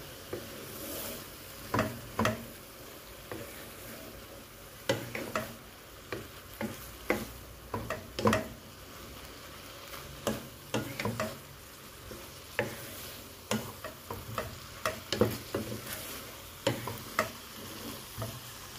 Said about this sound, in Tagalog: Isabay natin iigisa yan.